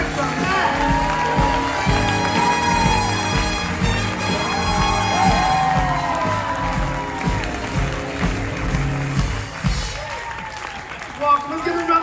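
A crowd cheers and claps aboard the cruise ship Discovery Princess as the captain, bartender and cruise director are introduced, lively whoops and applause running throughout with voices talking over the noise.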